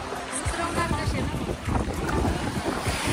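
A passenger boat runs on the sea on an island-hopping trip off Krabi, Thailand, with steady engine drone, rushing water and heavy wind buffeting the microphone throughout.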